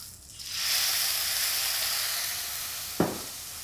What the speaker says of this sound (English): So you sweat the shallot, make sure they do not burn